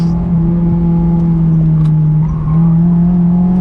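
Honda S2000 engine held at a steady high rev while the rear steps out in a drift, a loud continuous tone that dips briefly and climbs again, with no talking.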